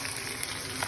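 Asafoetida and chilli crackle in hot oil for a tempering, a brief close, constant frying hiss with tiny pops.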